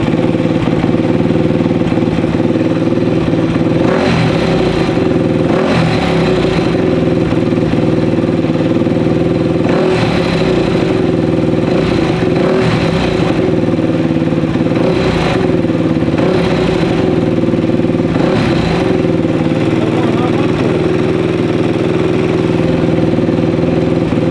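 A blown-then-rebuilt 250 dirt bike engine runs continuously and loudly nearby, with a steady idle drone broken by repeated rising revs as the fuel is adjusted. No one speaks.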